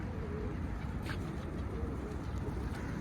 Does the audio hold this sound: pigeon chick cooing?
yes